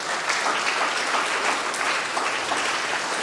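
Applause fills a church after Sunday Mass, dense and steady from a sizeable congregation, with clapping continuing evenly throughout and a faint voice underneath.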